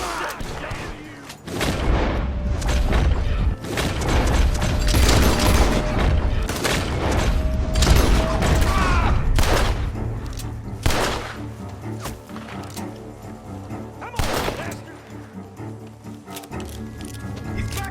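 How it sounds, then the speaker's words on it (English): Gunfire erupts from a barn in the Red Dead Redemption 2 video game, with loud bursts of shots, booms and thuds in quick clusters for several seconds before thinning out to scattered shots. "The gunshots are coming from that barn."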